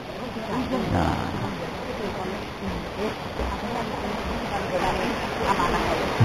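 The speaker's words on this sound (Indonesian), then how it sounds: "ini air dari air terjun ya" Mountain water tumbling down a small waterfall in a pine-wooded park makes a steady, dense rushing wash that stays close and continuous throughout, with a voice talking over it at moments.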